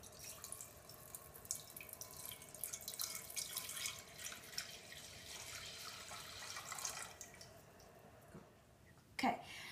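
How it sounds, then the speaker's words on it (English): Vegetable broth is poured into a cooking pot as a steady, soft liquid rush that lasts several seconds before trailing off, followed by a brief knock. "Now you pour in the vegetable broth."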